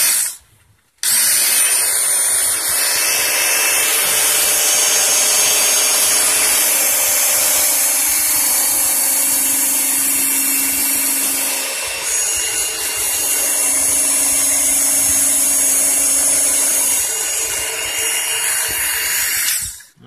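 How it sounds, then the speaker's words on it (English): A knife is sharpened on a Work Sharp powered sandpaper sharpener fitted with a 6,000-grit belt, producing a loud, continuous hissing whir that runs nearly twenty seconds with a slight shift midway, stopping abruptly at the end. "Sharpening test."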